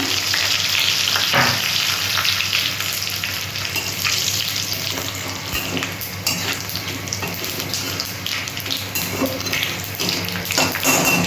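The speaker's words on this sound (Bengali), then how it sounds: "এখানে তেজপাতা শুকনো লঙ্কা গোটা গরম মশলা এলাচগুলো আমি ফাটিয়ে দিয়েছি" Bay leaf, dry red chilli, cardamom and other whole spices crackle in hot oil for a banana-flower ghonto, a loud, close, unbroken sizzle dotted with small pops.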